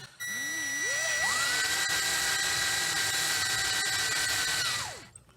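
Power drill boring into aluminum for TRX4M dually wheels: the motor spins up with a rising whine, holds a loud steady pitch for several seconds, then winds down.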